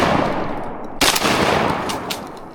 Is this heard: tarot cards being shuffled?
no